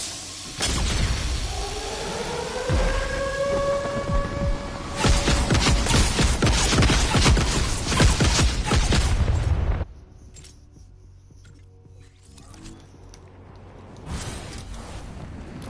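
An airstrike in Fortnite opens with rising siren-like wails, then a dense barrage of loud, crackling explosions for several seconds before cutting to quieter rumbling and a final burst.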